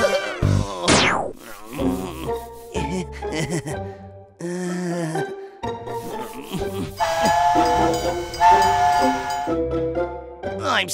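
A cartoonish mix of train sounds, with a shrill steam whistle, hissing steam and rhythmic chugging, interrupted by bursts of other effects.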